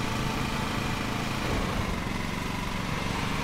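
Steady, continuous drone of a lawn mower engine in the video game Lawn Mowing Simulator, running loud and even throughout with no talking over it.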